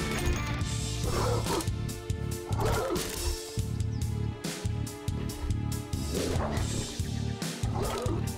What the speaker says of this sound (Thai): หมาตาไฟ